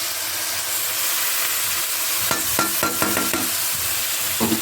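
Rice, fried potatoes and spice paste fry in a pan, making a loud steady sizzle and hiss. A run of rhythmic scraping stirs starts partway through and another comes near the end. There is no speech.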